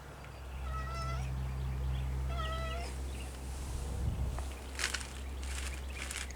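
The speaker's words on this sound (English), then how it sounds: "Here's the cat, the aggressive cat, coming to greet me, saying hello, hello," A cat meows twice in greeting outdoors during spring garden planting. The two clear, drawn-out calls come close together near the start, followed by soft rustling and footsteps.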